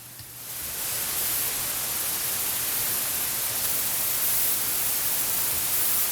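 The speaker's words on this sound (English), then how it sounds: "just listening to the white noise" Continuous white noise passed through an EQ filter, a dense and even hiss that fades in over the first half second and then holds loud and steady, brightest in the upper range, with no talk.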